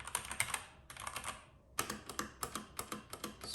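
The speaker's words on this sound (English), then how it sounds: "So maybe I can just type and you can see the sound." Close keystrokes on a Keychron K2 v2 aluminium-frame mechanical keyboard fitted with Gateron brown switches: a fast burst of typing, a short gap, then steady separate clacks in an even rhythm.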